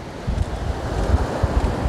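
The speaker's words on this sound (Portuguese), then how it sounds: "Mesmo com a maré alta aqui é bem calminho, ó. Vocês não tem ondas fortes nesse trecho." Calm sea at high tide on the beach at Mamucabinhas in Barreiros, Pernambuco, heard as a steady broadband wash of gentle surf buried under heavy wind rumbling against the microphone, with no talking.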